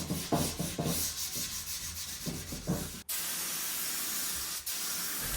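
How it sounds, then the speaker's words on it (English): Painted furniture being lightly scuffed with 400 grit sandpaper, quick close-up rubbing strokes at first, then a sustained even hiss of continuous sanding. "I used 400 grit sandpaper to lightly scuff up the surface so I can get it nice and smooth"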